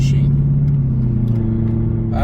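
A 2007 Mercedes-Benz CLK63 AMG V8 idles inside the cabin with a steady low droning hum, close and even, while people talk over it.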